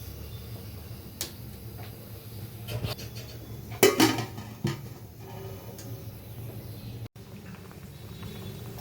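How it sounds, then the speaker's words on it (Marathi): Metal cookware clinks and clatters in a home kitchen as a lid and a thick griddle pan are set on a stove over rice for chicken biryani, a few faint scattered knocks and a sharper clank midway. "ह्याला झाकण ठेवूया ह्याच्यावर. आणि मग 2 मिनिटानंतर एक तवा घेऊया जाड आणि त्याच्यावर ठेवूया"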